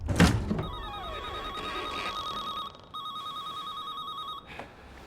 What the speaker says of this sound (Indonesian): bersamaan dengan dering ponsel dari balik lemari